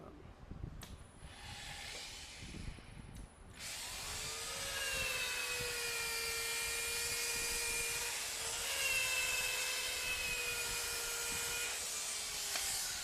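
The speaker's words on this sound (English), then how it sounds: "I am just going to sand that a little bit" A power sander works the wood of a snowman figure, starting after a few seconds of quiet handling and then running steadily and loudly, its whine shifting slightly in pitch as it moves across the surface.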